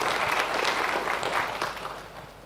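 Applause from the audience at a company's annual general meeting, steady clapping from a crowd that slowly fades toward the end.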